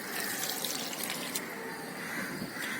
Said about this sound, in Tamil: நான் இதில் ஊற்றி வைக்கிறேன்.